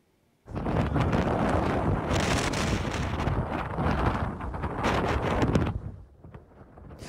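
Strong crosswind over an icy highway between Beyneu and Aktau roars steadily into the microphone, loud and buffeting for several seconds before easing at the end.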